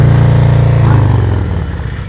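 Motorcycle engine idling and revving low during slow-speed turning practice in California, a steady close rumble that eases slightly as the throttle changes, with no talk.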